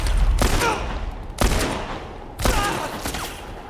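Bursts of gunfire in The Last of Us VR mod ring out loudly: three sharp shots at roughly one-second intervals, each followed by a long reverberant tail.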